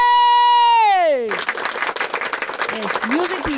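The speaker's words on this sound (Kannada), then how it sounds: "ಚಪ್ಪಾಳೆ." An audience claps for a Grade 4 student performance at a school day function. The applause is a dense patter of many hands that swells in after a sliding, descending electronic tone and continues with scattered crowd noise.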